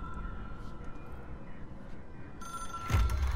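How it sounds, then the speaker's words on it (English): Telephone in the video game Control ringing faintly under a low ambient hum, with a louder burst of the ring near the end. "It is a phone."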